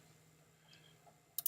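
A computer mouse clicks in Final Cut editing software, a quick faint double tick at the very end of near silence over a soft steady hum.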